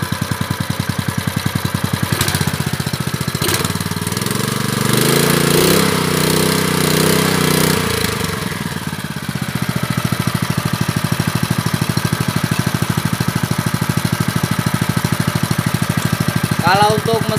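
A small Honda GX160 petrol engine putters steadily at idle close to the microphone, a fast even chugging that runs the whole time with brief revving and voices over it.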